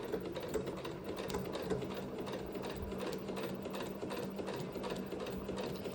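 A sewing machine stitches two pieces of fabric together along a 1.5 centimetre seam guide. It gives a steady, continuous mechanical whir with a fast rapid-fire needle patter, close and even throughout with no talking.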